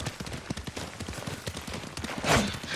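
Horse hooves clip-clop in a quick, steady rhythm during riding in the Ghost of Tsushima video game, close and moderately loud, with a brief louder swish near the end.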